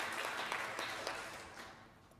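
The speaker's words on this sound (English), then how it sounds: "Can we please give a round of applause to our peers honoring our invitation?" Audience applause at a closing ceremony of an expert meeting, a dense burst of clapping that gradually thins and fades over a couple of seconds.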